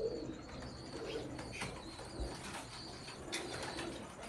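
Sialkoti pigeons coo faintly in a loft setup amid a noisy background, with occasional wing flaps and chirps scattered through the short stretch, no talking.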